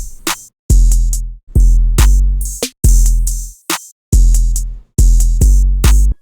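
Full drum beat built in FL Studio: punchy hard-hitting kicks with deep 808 booms, sharp snares and crisp hi-hats in a steady bouncing pattern, loud and alone.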